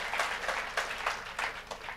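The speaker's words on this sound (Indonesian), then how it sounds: "Yuk yang setuju dengan saya berikan tepuk tangan" A church congregation claps during a sermon, giving dense, fairly even applause with slight surges that carries through the whole short stretch.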